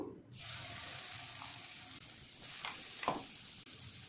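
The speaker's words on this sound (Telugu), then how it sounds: "పచ్చి వాసన పోయే వరకు ఫ్రై చేసుకోవాలి అల్లంని" Freshly ground ginger paste frying in oil for homemade chicken pickle, a close, quiet continuous sizzle with a few stirring scrapes and clinks, no voices.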